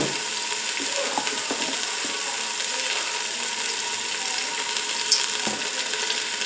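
Pot roast browns in a hot Instant Pot pressure cooker, a steady close crackling sizzle of searing meat with a few faint clicks and scrapes now and then.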